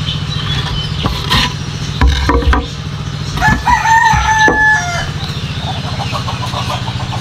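Chickens let out in the morning on a foggy rural homestead: a rooster crows clearly over steady background clucking and farmyard noise, with a few sharp knocks and rustles.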